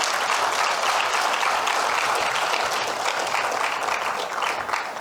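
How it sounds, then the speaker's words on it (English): Big round of applause from an audience at the IATF 2027 hosts agreement signing ceremony, a thick, even wash of clapping that stays steady and fairly loud for the whole stretch. "Let's give Baba a big round of applause again"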